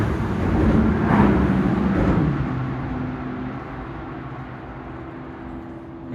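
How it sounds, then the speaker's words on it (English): Traffic rumbling across a bridge near a fishing spot, a broad low roar swelling to a peak early on, then fading into a steady distant hum. "mind listening to cars when they come across this bridge"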